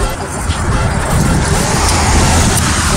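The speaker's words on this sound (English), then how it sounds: "Got a car coming up." A car approaches on the road, a loud, steady roar of engine and road noise close by that swells a little over a few seconds, with no break.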